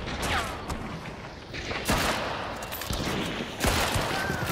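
Gunfire bursts in the online shooter The Hunt, a fusillade of rapid shots with loud sharp reports near 2 and 3.7 seconds over continuous battle noise.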